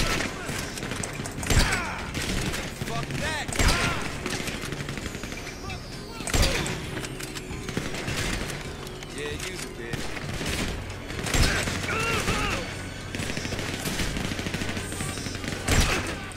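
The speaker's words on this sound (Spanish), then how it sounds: "Están disparando, weón." Bursts of gunfire in GTA 5 Online, repeated volleys and single shots scattered through a long firefight, loud and close, with players talking over the shooting.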